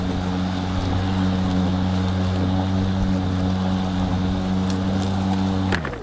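An EGO electric lawn mower runs continuously in an outdoor field, giving a steady droning hum with a constant whirring tone and wind-like noise, close and even, cutting off near the end.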